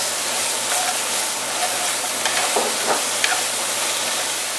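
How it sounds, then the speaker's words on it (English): Browned bits are scraped off a frying pan of sizzling onions during a chicken stir fry in a dorm kitchen: a loud, continuous hiss and sizzle with short scraping strokes running through it. "start scraping up that actual brownness right there"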